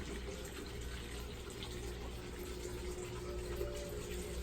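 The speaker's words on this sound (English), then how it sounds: "here is my husband's koi pond" Water in a backyard koi pond on a patio, a constant low, even splashing and bubbling flow heard faintly and steadily with no talking.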